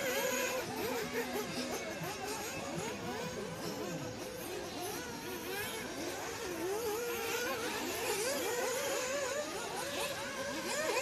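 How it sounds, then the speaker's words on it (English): A small RC race car at a qualifying round in Myrtle Beach whines past with a high, buzzing motor that rises and falls in pitch, steady and fairly loud, with other cars droning around it. "Car number 3 coming up over by us now."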